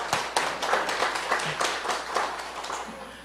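Audience applause at a labor testimony meeting on indirect employment, a steady wash of many hands clapping from a crowd, moderately loud and continuous without talk.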